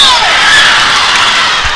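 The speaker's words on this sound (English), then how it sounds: "The crowd getting back into it." Loud, roaring crowd noise fills a varsity high school basketball gym as fans cheer and shout continuously, with a dull thud near the end.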